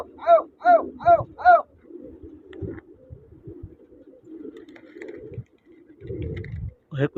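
Pigeons, raced and kept for flying competitions, give four quick, close, rising coos in a row, then a softer stretch of low murmuring coos with faint rustling and bumping around them.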